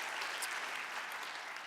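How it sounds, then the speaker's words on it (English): A morning church congregation claps in a brief burst of applause, even and continuous, with no voices heard over it. "yeah, you can cheer for that"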